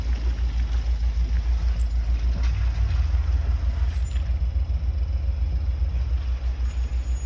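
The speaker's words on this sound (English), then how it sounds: "So there goes a car into the driveway" A car idles and rolls slowly into a home driveway with a steady low engine rumble, heard close and continuous throughout with no talking.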